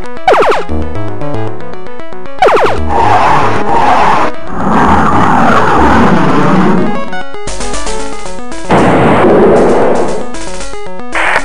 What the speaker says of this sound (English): Firing lasers.